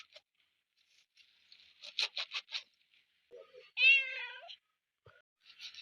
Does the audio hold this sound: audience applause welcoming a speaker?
no